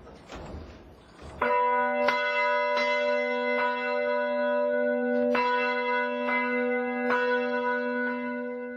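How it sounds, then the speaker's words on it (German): Church bells ring a Sunday peal on a weekday after a hacked control system sets them off: after a brief murmur, clear bell strikes sound one after another at a steady pace, each leaving a long ringing hum. "lassen das Sonntagsgeläut am heutigen Mittwoch"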